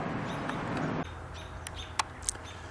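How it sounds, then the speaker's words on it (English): Small birds chirp around a bald eagle along the Spokane River near Upriver Dam on the Centennial Trail, a few short, thin calls sounding faintly at a distance over steady outdoor noise. "You can also hear the birds chirping around it."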